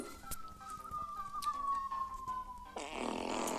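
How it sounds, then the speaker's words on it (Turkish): A cartoonish fart sound effect in a video game: a long, drawn-out tonal squeal that slides slowly downward for nearly three seconds, then breaks into a loud, noisy burst to the end. "Atom osuru."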